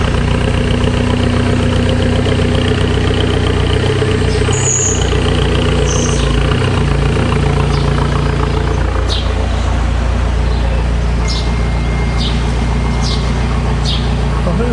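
A Mercedes E250 engine idles steadily with a deep, throaty exhaust rumble, close and continuous, with faint metallic ticks in the background.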